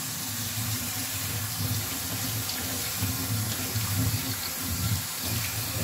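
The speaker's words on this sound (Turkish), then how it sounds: "Şöyle üzerine soğuk su gezdireceğiz." Cold tap water pouring from a kitchen faucet over cooked pasta in a sink for a pasta salad, a steady, close, full rushing splash that runs unbroken throughout.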